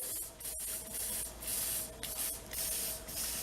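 A spray paint can sprays in a series of hissing bursts, each lasting about a second, close and fairly quiet.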